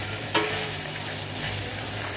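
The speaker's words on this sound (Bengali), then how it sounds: "এইভাবে সব কিছু কষিয়ে নিচ্ছি।" Potatoes and spices stir-fry in a karahi, a steady low sizzle close by with one sharp metallic clink near the start and faint stirring scrapes after it.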